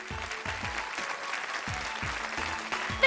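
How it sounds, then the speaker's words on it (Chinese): Audience clapping for children's drama performance teams in a TV studio, a steady patter of many hands with brief fluctuations, no talking over it. "把热烈的掌声送给他们"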